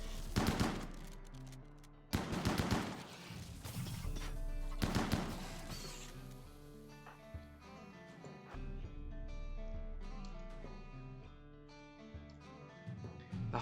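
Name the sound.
chain shotgun gunfire, from video game RimWorld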